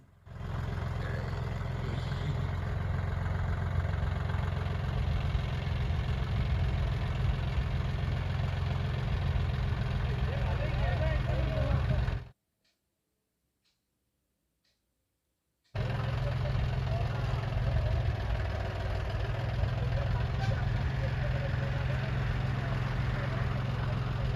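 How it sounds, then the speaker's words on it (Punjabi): Tractor engine pulling a trolley loaded with soil slowly in low first gear, a loud, steady low rumble that drops to silence for a few seconds and then resumes, with no talking. "ਐਨ ਪਹਿਲੇ ਗੇਅਰ 'ਚ ਲੋ 'ਚ ਐਨ ਹੌਲੀ ਹੌਲੀ ਜਾ ਰਿਹਾ ਤਾਂ ਵੀ ਦੇਖੋ ਕਿੰਨਾ ਚੱਕ ਹੋ ਰਿਹਾ"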